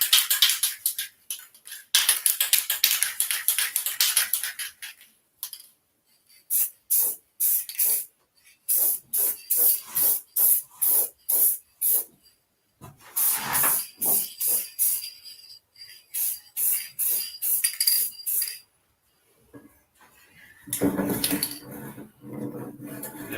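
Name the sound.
spray painting a second coat of paint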